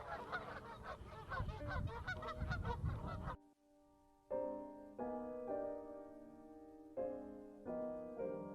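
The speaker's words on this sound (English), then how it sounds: "the Canadian geese are a loud neighbor" Loud, close Canada geese honking in a dense, overlapping chorus at a park lake, then a brief lull before several shorter bursts of honks return.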